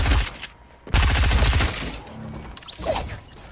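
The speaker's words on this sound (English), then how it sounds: "I can hear a weapon." Weapon gunfire in the Fortnite video game, heard as loud bursts of rapid shots with sharp impacts and rattling mechanical clatter. Quieter gaps fall between the volleys.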